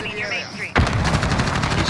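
Rapid automatic gunfire erupts in Modern Warfare on the Shoot House map, a loud, dense burst of repeated shots starting abruptly and continuing without pause, preceded by a moment of quieter game sound.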